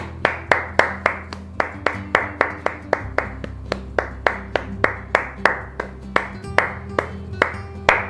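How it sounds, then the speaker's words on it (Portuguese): Steady hand clapping, about two dozen sharp, evenly spaced claps at a brisk rhythm, close and clear with nothing else over them. "27 palmas, uma pra cada, né?"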